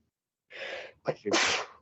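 A single sharp sneeze, close and loud, with a quick intake of breath before the burst, in an otherwise quiet room.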